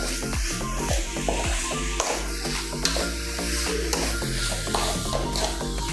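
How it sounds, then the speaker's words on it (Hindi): Milk, grated bottle gourd and sugar cook together in a pan as a spoon stirs the mixture, giving steady bubbling sizzle with repeated scraping strokes against the pan, close and continuous with no talking. "मिक्स कर लेंगे।"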